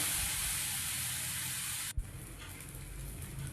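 Jackfruit dosa batter sizzling on a hot griddle, a steady loud hiss that cuts off abruptly near the middle, then continues as a softer crackling sizzle, with no voices.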